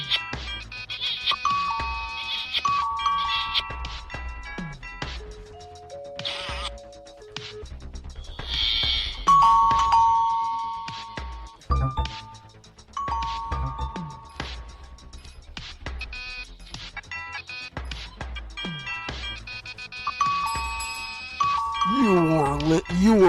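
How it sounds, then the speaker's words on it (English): A dense wash of many doorbells chiming and ding-donging at once, bright overlapping tones stacking and repeating across the whole stretch, loud and cluttered with electronic jingles and warbling tones mixed in. "You were just listening to millions of doorbells"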